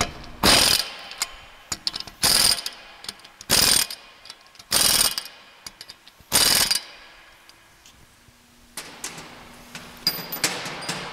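An impact or ratchet wrench tightens lug nuts with conical washers onto a cleaned brake wheel hub, with five loud, separate bursts of rapid ratcheting spaced about a second apart, followed by quieter clicking and handling.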